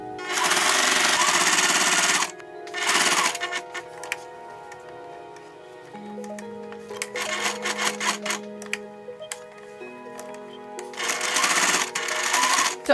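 A sewing machine stitching a 1967 Andre Courreges-style mod dress, running in loud close bursts of rapid mechanical chatter with brief pauses between runs.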